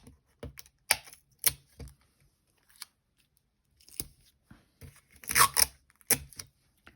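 Several sharp bursts of tape being pulled and torn off a roll while making a handmade card, loud and close, with short quiet gaps between them and no talk.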